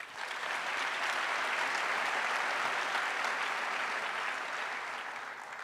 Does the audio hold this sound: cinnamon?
no